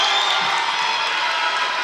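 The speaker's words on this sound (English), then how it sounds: "And the crowd definitely getting into it now" A packed high school volleyball crowd at a Slidell rivalry match roars in a loud, dense, continuous wall of cheering and shouting.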